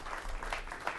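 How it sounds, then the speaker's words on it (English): An audience applauding for a speaker at a talk, brief faint clapping heard from a distance. "How about a round of applause for Bryan?"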